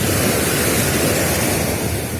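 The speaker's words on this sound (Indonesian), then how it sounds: "Ombaknya juga lembut ya," Gentle ocean waves wash up onto a beach in the morning, a steady, broad rush of surf that stays loud and even throughout, with no voices.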